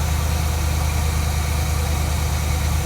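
An old motorhome engine idles steadily with a constant low rumble and vibration, close by, no voices.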